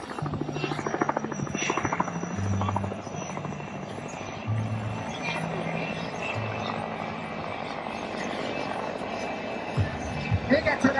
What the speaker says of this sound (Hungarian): a hajtónunk két darab P2L GTD 350-es gázturbinás sebessége 220 km óra